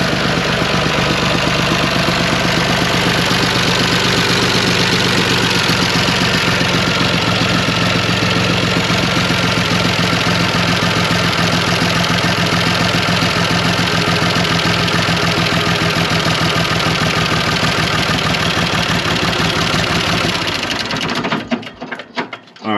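A John Deere 350B dozer engine idles with a steady, loud mechanical chug and knock that runs evenly, then sputters and dies near the end, likely from a clogged fuel return line.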